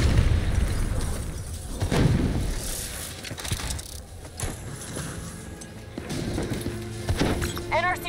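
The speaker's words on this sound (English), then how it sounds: "They're about to detonate!" Explosions detonate from rogue robots in Call of Duty Black Ops 3's Lotus Towers mission, with heavy booms and crashing bursts spread across a dense, loud battle soundscape.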